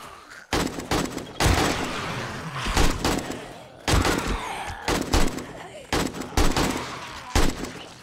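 Loud bursts of video game gunfire in 7 Days to Die erupt in rapid volleys, with several dense, punchy stretches separated by short gaps.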